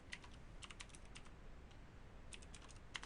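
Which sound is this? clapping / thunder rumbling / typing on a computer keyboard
typing on a computer keyboard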